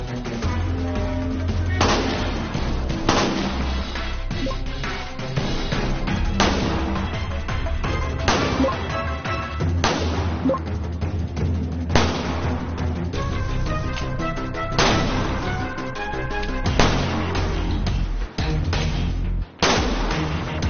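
Police sniper rifle shots fired at a 50 meter target during a special police sniper training demonstration in Beijing, several loud sharp reports spaced a few seconds apart over steady background music.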